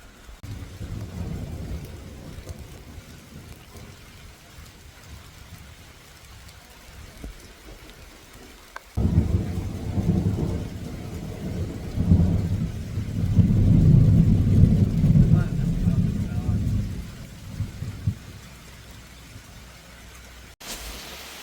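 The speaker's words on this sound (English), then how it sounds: "that rain's really getting bad" Heavy rain drums steadily, lighter at first and then surging louder partway through, with a broad hissing wash that swells and eases.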